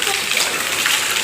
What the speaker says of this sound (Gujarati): વરસાદ વરસાદ વરસાદ અમારા ગામનું